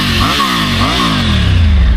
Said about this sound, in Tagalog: Triumph Tiger 900 test ride.